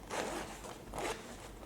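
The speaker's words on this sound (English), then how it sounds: "Unzip the zipper" Zipper on a sewn fabric beauty pouch pulled open in two quick, close raspy strokes, loud and alone.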